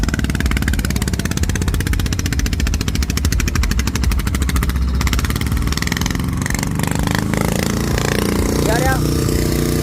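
A walking tractor's small engine chugs steadily and loudly throughout, with a rapid mechanical putter; voices can be heard talking over it near the end.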